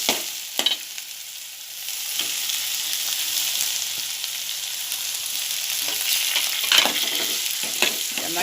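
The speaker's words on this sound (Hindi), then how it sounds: "इसको थोड़ा टाइम हम तेल में अच्छे से भुनेंगे" Kolim (small dried shrimp) and onion sautéing in oil, a loud, continuous sizzle broken by stirring scrapes in a home kitchen, close to the pan with no talking.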